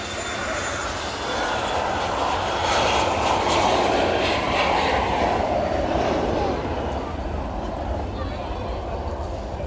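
Aircraft departing East Midlands Airport in the afternoon, with a sustained, fairly distant jet engine roar that peaks midway and holds steady, with faint talk in the background.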